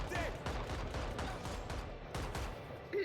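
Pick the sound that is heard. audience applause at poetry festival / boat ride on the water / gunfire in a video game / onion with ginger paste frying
gunfire in a video game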